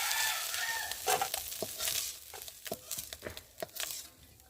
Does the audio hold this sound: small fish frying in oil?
yes